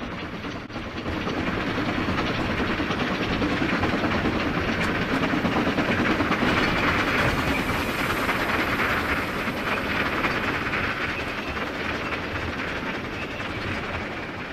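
A steady, loud rumbling roar of a Southern Pacific GS class steam locomotive train running on rails, continuous and close, with a broad hiss and faint rhythmic clatter throughout.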